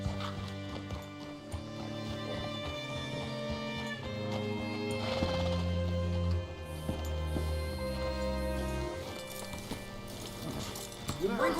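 Horse hooves clip-clop at a walking pace beneath a bed of music, with occasional other movement sounds; no one speaks.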